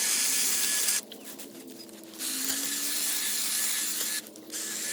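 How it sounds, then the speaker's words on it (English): A Dewalt 20V cordless hedge trimmer cuts through ivy branches outdoors, giving a steady close hissing buzz that drops out briefly twice as the cutting pauses and restarts. "The Dewalt hedge trimmer was really good for this type of thing."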